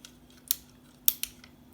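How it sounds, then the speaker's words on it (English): Ratchet joints on a Transformers Stormcloud figure click as a limb is bent, giving a few sharp, small plastic clicks close up in an otherwise quiet room. "Nice clicky ratchets that can bend back 90 degrees and forward 90 degrees."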